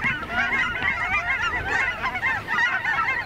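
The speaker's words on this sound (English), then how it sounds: "There's all the Canadian geese coming back." A flock of Canada geese honks continuously overhead, many overlapping calls forming a dense, loud chorus outdoors with no voices.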